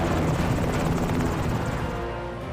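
Helicopter rotor and engine roar in an action film scene, a loud, steady, dense thrum close by, holding constant with no voices.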